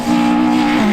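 A Vauxhall Corsa rally car driven hard on a closed stage at Aghadowey, its engine holding a loud, steady strained note for a brief moment, close by.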